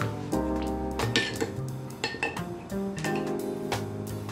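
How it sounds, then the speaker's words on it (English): A utensil clinks and scrapes repeatedly against a bowl while melted chocolate and butter are stirred together, irregular metallic taps and chimes close up, with no talking. "I'm just gonna stir that up until it's well combined"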